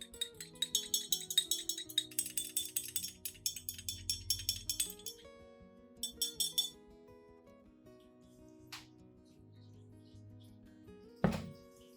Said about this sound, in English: Continue stirring the solution thoroughly.